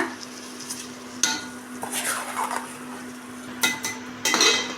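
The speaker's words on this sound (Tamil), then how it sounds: "கொஞ்சம் இதில் நல்லா அந்த அரிசிக்கு அந்த மசாலாலாம் பிடிக்கிற மாதிரி நல்லா வணக்கி விட்டுக்கலாங்க" Seeraga samba rice and masala are stirred in a pan for a vegetable biryani, with a soft scraping of the spoon, a few sharper clinks against the metal, and a faint sizzle underneath.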